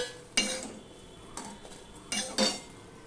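Fried soybean chunks being scooped from a pan into a bowl with a metal utensil, four distinct scraping clinks spaced irregularly, close and moderately loud over a quiet background.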